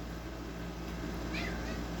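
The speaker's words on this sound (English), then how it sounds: "Macy, good kitty." A single cat meow rises briefly over a steady background hum, fairly soft and close.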